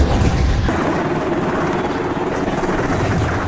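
Loud, continuous rotor thumping and roar of an overloaded helicopter flying nearby over the Andes in a film, with a heavy low rumble throughout.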